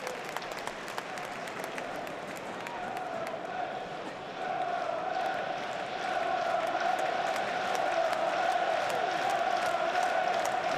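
A stadium crowd at a Sunderland AFC versus Stoke City football match claps in a steady, dense rhythm that swells louder halfway through, with scattered cheers and voices mixed in.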